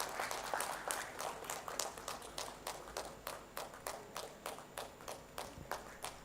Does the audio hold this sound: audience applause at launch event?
yes